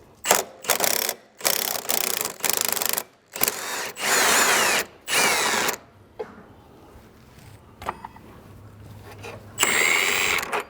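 An impact gun with an 18mm socket drives out a control arm bolt on a 2005-2012 Porsche 911 997 Carrera, firing in about half a dozen sharp, close rattling bursts, then a quieter pause and one last burst.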